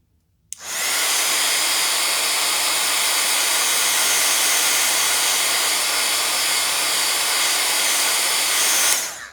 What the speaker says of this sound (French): le pistolet permet à la colle de vraiment être un peu, de se liquidifier un petit peu